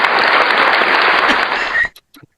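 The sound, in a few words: audience clapping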